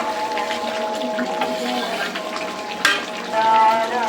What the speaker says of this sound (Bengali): এখন আমি ঝোল দিয়ে দিব।